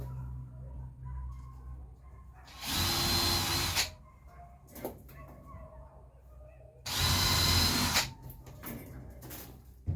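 A power drill drives screws into a greenhouse trellis in two loud whirring bursts of about a second each, separated by quieter handling noise.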